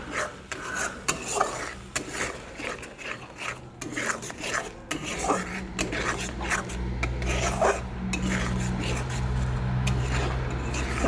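Spices being stirred in a cooking pan for a Bengali paneer vegetable dish, repeated close rasping scrapes of a spatula over a continuous low fry, with a faint voice in the background.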